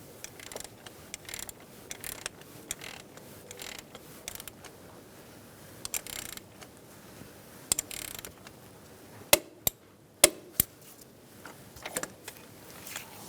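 A wrench ratchets and clicks while snugging down a coolant temperature sensor on a 2010-2013 Kia Soul 2.0L, with soft creaks and handling noise, then several sharp, louder clicks in a cluster near the end.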